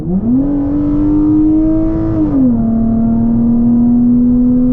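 A performance car pulls hard from about 50 to 120, its engine droning loudly with a steady rising whine that dips briefly at a gear change and then holds strong, with no talking over it.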